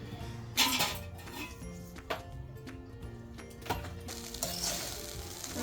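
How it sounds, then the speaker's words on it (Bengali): A spatula stirs vegetable fried rice, seasoned with salt, sugar and ground pepper, in a pan. Close, irregular scraping and clattering strokes come in uneven bursts over a steady low background. "এবার নাড়াচাড়া করে নেব।"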